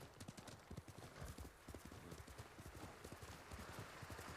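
Horse hooves clip-clop at a steady walking pace in the video game Ghost of Tsushima, soft and continuous, with faint background ambience and no voices.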